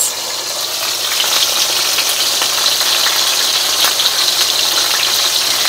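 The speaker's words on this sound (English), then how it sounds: "Listen to that sizzle, you guys." Fish fillet frying skin side down in a hot pan gives a steady, close, loud sizzle and crackle that runs the whole time with no talking.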